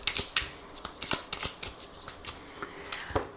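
Lenormand cards being shuffled for a tarot-style reading, close and alone: quick papery riffles and soft slaps in an irregular run of bursts.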